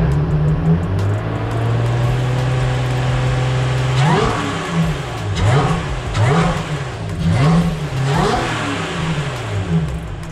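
A Lotus car engine running close by, first idling steadily, then revved repeatedly in rising and falling swells over several seconds before settling, with no talk over it.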